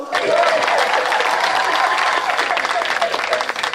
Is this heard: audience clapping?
yes